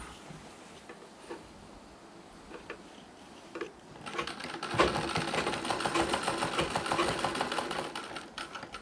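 A sewing machine stitches a nauvari saree, running first with faint, slow, ticking stitches and then speeding up into a louder, dense, continuous rattling hum, heard close and alone.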